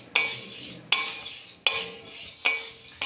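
Lentils frying in a pan are stirred with a utensil in four sharp scraping strokes at roughly steady intervals, each a bright clatter fading into a soft sizzle, close and fairly loud, with no one talking.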